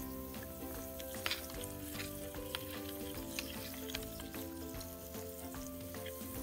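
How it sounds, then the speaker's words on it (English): A steady fizzing hiss of a Num Noms toy bath fizzer dissolving in water, continuous crackly bubbling with small pops throughout, fairly close. "You can hear it fizz."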